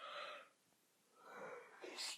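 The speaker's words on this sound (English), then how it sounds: "Excuse me while I yawn." A single human yawn, breathy and drawn out with a short pause partway through, heard alone and close to the microphone.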